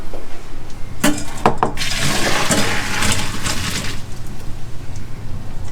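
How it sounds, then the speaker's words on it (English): Cooked shrimp poured into a metal colander in a kitchen, a rush of water and a few sharp clanks from the pot and colander, followed by steady draining splashes. "They're cooked. I'm gonna strain them."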